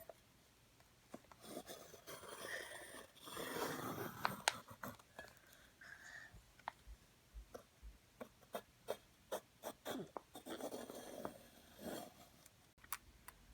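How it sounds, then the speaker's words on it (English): A pencil held upright scrapes and ticks around the rim of a pot lid on paper, a soft close rasping in uneven strokes, with a run of light, evenly spaced taps toward the end and no talking. "using our pencil upright, we're going to go all around the edges"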